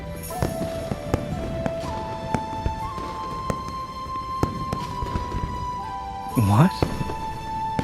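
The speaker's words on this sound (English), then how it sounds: "The fireworks are too loud." New Year's fireworks burst in the Love and Deepspace video game, a series of sharp distant pops and crackles at irregular intervals beneath a speaking voice, ending in a louder whistling burst.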